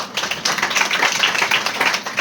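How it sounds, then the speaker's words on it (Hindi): A congregation at a church service claps together in a quick, dense, continuous burst of applause, close and loud, with no speech over it. "ताली बजाए इन लोगों के लिए"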